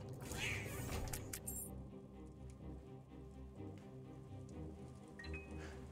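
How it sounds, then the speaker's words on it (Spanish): A cat meows in a few short cries near the start, faint against a quiet indoor background with soft patter and hum. "no he visto nunca un gato comerse un queso"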